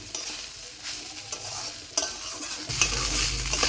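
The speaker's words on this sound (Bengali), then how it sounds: "আস্তে আস্তে নেড়ে নেড়ে চালগুলোকে আমি ভেজে নেব" Rice for basanti polao being stirred and fried in a pan, with soft scraping stirs at first and then a louder, steady sizzle in the final second or so, close and with no voices.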